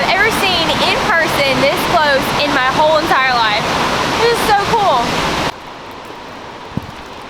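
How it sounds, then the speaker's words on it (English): Greeter Falls in Tennessee roars as a loud, steady broadband rush up close while people talk excitedly over it, then the roar continues more quietly without voices. "that is probably the biggest waterfall that I've ever seen in person this close in my whole entire life"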